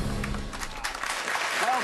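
Studio audience applause on a talk show, a broad continuous patter of clapping filling the room, with faint talk mixed beneath.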